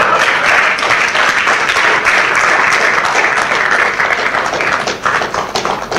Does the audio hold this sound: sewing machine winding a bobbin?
no